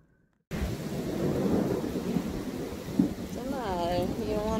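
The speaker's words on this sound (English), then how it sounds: "You don't want to go in the rain?" Steady rain with rolling thunder, a broad continuous wash that swells and rumbles, with a brief sharper crack near the end and a faint rising animal whine at the close.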